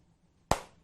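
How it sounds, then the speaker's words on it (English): A teacher's single sharp hand clap in a classroom, crisp and close, rising out of near silence and decaying quickly with a short room tail. "every time you hear the clap,"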